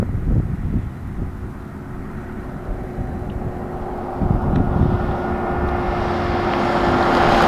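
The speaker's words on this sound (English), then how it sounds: "He's getting the engine all warmed up" A Mercedes-AMG G63 G Wagon engine warming up, a loud continuous low rumble with a steady idle hum that swells slightly toward the end, with no voices.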